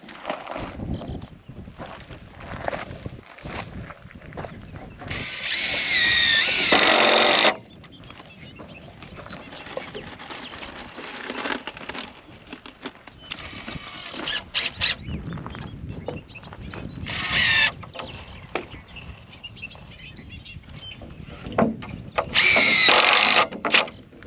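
A power drill drives screws into barndominium wall framing in short, loud whirring bursts of a second or two, separated by quieter stretches of handling noise and knocks on a work site.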